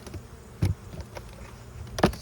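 Honey bees buzzing around an empty hive super brought back for cleaning; a soft steady hum of wings with a couple of louder close passes near the microphone.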